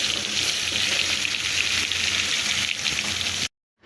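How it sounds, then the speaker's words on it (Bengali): Hilsa fish sizzling and frying in a hot pan, a steady dense crackle that continues without pause before cutting off abruptly near the end. "এই তো আমার মাছ ভাজা"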